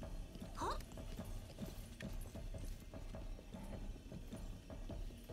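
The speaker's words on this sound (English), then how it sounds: "That's Zelda's horse right there." A white horse in a Zelda video game trotting, with steady rhythmic hoof clip-clops under game music, a brief whinny near the start, and a person talking over it.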